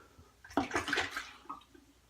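Running water splashing briefly as shaving lather is rinsed away, a short, faint burst of trickling and sloshing in a quiet room with no talk.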